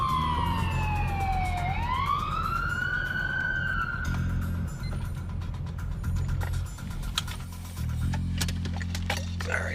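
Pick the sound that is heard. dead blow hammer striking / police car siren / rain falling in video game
police car siren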